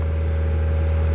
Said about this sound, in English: my car is very fucking loud, and I just started it up and it's currently revving up to